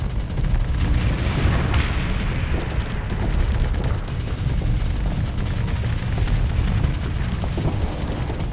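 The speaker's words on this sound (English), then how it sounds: "They started bombing me." Continuous low booming and rumbling bombardment from explosions in the space strategy game Starsector, dense and loud throughout with no pause.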